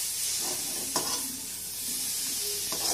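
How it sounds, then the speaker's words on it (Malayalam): Beef is stirred through masala in a pan for beef ularthu, a Kerala dry fry. A steady soft sizzle runs under repeated scraping and stirring strokes, with a few sharper clicks of the spoon against the pan. No one speaks. "സോ ഇത് നന്നായിട്ടൊന്ന് ഇളക്കി യോജിപ്പിക്കണം"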